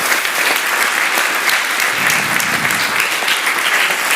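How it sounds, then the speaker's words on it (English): Audience at an eMTIC five-year celebration session clapping together, a dense, loud and even burst of applause lasting a few seconds with no talk over it. "one more applause for Vasuta and Chantal"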